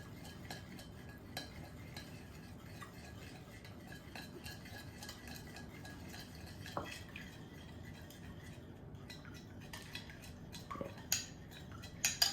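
A spice rub is stirred into olive oil as a base coat for pork butts, giving quiet, continuous scraping and stirring with scattered light clinks of utensil against bowl, faint and close.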